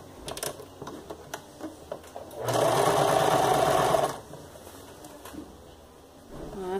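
A sewing machine stitches fabric scraps for a ruffled skirt in one loud, steady run of about a second and a half, framed by quieter clicks and handling noises.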